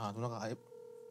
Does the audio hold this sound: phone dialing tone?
yes